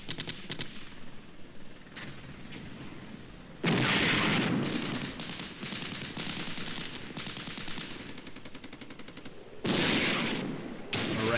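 Tanks and artillery fire in the wargame Flashpoint Campaigns: Red Storm, with rapid rattling bursts of gunfire and heavier booming volleys that swell loudly at two points over a continuous din of battle.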